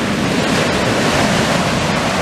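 Sea waves break and wash steadily on the shore, a loud, continuous roar of surf close by with some wind, no voices.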